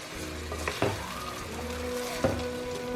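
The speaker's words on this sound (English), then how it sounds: "we're going to cook these onions till they're nice and golden" Chopped onions frying in a pan for a lamb haleem, a steady soft sizzle with a couple of brief stirring clatters, close and alone.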